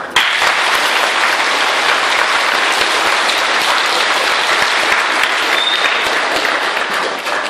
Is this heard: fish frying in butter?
no